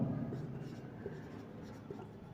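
Chalk or marker scratches across a board during a Class 12 physics lecture on diffraction, a close, continuous scraping stroke with a few short taps, with no speech over it.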